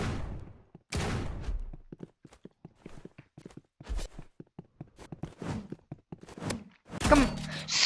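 Rapid bursts of gunfire from the Roblox game Rivals, sharp clicky shots in quick uneven runs with a louder cluster near the end, and a voice talking briefly over them.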